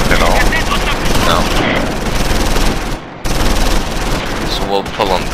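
Gunfire in Close Combat 5, a World War II Battle of the Bulge strategy game: loud, dense bursts of machine-gun and rifle shots rattling almost continuously, with one brief gap, alongside a voice speaking.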